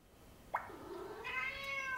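A cat meow played from an iPad learning app sounds once after a brief tap, a clear rising-falling electronic-sounding call heard alone in a quiet room.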